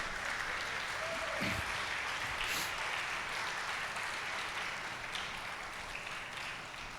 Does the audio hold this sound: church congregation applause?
yes